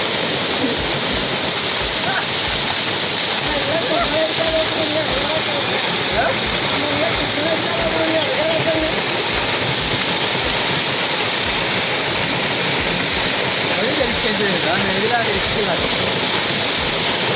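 A hidden waterfall roars loud and steady throughout, a dense broadband rush of falling water with faint voices and brief whoops mixed in underneath.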